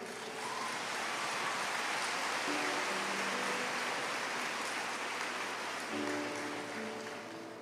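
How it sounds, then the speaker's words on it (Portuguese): Dense, steady applause from a large audience at a women's church conference fills the hall like a continuous hiss, with faint sustained musical tones sounding underneath. "Pode aplaudir Ele."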